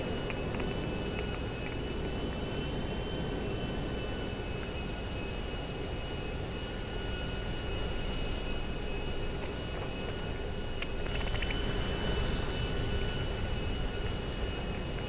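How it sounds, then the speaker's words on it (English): An airplane flies overhead near the Bermuda Triangle, a steady, droning engine rumble that persists throughout under a noisy background, with a slight swell near the end. "Oh, there's a plane."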